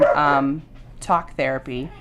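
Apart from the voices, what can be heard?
dogs barking in the background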